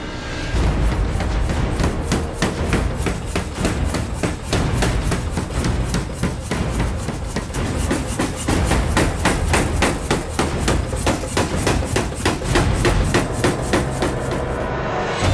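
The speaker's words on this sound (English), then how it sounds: "So we're going to draw the beard of the axe down a little bit longer with these dies." A power hammer with fullering dies forges the beard of a steel axe, delivering rapid, steady, evenly spaced heavy blows that continue without a break.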